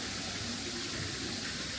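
A waterfall beside a hotel pool in Bali gives a steady, even rush of falling water that continues unbroken at moderate loudness, with no voices.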